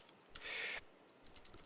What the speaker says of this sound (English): go ahead and type like 5 random words like apples,